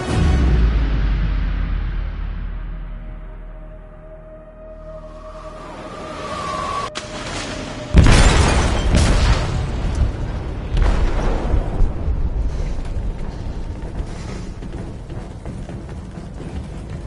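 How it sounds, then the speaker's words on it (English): An explosive detonating in a ship's hold in the video game Detroit, a deep rumbling boom that fades, then a sudden loud blast followed by sustained crashing and roaring debris. "They detonated an explosive in the hold. The ship is sinking, sir."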